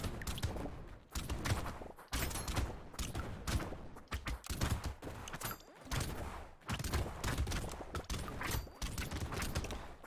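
Rapid bursts of explosions in the top-down arena shooter Brotato crackle and pop almost continuously, loud and dense, with brief gaps between clusters.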